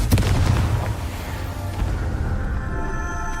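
A Confringo blasting spell from the Hogwarts Legacy game goes off as a loud, booming burst at the very start, then fades into a low rumbling tail with lingering crackle.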